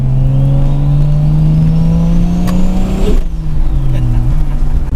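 A Toyota Supra with an inline six-cylinder turbo engine tuned to 600 hp revs hard and close, its pitch climbing steadily before dropping sharply on a lift-off and settling again.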